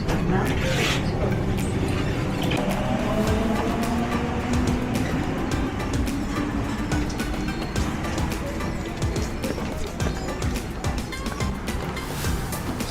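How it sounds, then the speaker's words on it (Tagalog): A passenger train pulls into a station, its steady rumble and rattle of carriages running throughout, with brake hiss and squeal tones sliding along as it slows, plus a voice talking. "So yun guys, bababa na ako ng train."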